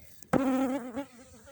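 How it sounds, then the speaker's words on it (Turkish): A bee buzzes close by, a sudden loud drone that wavers in pitch for under a second before fading away. "Bir de arı geldi."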